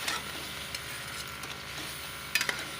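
Masala with tomato paste for chicken chana daal fries in a pan with a soft, steady sizzle, while a spoon stirring it adds intermittent scrapes and sharp clinks, the loudest near the end.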